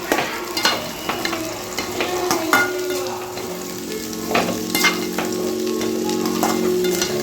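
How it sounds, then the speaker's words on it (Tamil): Onions for a gooseberry (amla) pickle sauté in oil in a pan, giving a steady close sizzle broken by scraping stirs and clinks of the spoon, with no voices. "நல்லா அந்த எண்ணெயிலேயே நல்லா வதக்கிடுவோம்"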